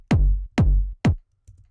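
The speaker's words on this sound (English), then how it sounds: "changed the decay on the kick drum, so it's not as long." Three punchy kick drum hits in Logic Pro X, evenly spaced, each with a deep thump that falls away quickly because the decay has been shortened, followed by a faint low tail.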